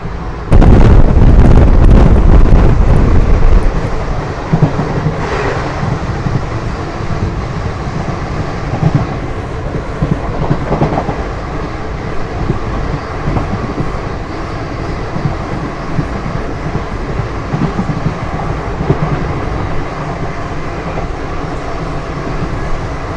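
The 17210 Seshadri Express passenger train rolls along the rails between Samalkot and Bengaluru, heard from on board. A loud burst at the start gives way to a steady, continuous rumble and rattle of the carriages.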